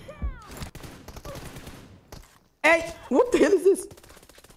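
Rapid gunfire bursts crack out in a first-person shooter team deathmatch, loud close volleys after a quieter stretch, with a voice speaking over the action.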